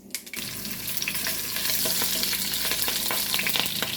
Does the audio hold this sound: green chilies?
yes